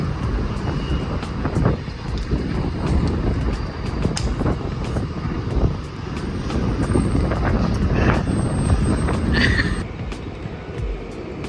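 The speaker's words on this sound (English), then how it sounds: "it is really windy, so bear with me" Heavy wind buffets the microphone in a continuous low roar near Houston, Texas, gusting stronger and easing, with faint higher tones in the distance.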